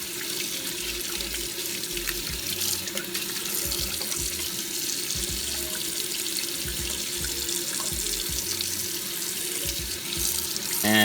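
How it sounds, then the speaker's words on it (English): Lukewarm water running steadily from a tap into a sink for cleaning a Rolex Submariner watch, a constant close hiss and splash with no talking. "Second step is water. I'm just gonna use lukewarm water."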